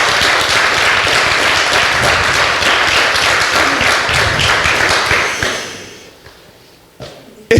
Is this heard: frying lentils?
no